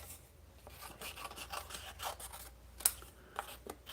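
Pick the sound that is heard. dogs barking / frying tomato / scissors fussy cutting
scissors fussy cutting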